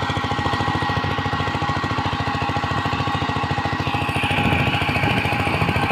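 A Kamco Super DI 120 power tiller with a direct-injection diesel engine runs up close, giving a steady, rapid, loud thumping chug that continues evenly throughout with no talking.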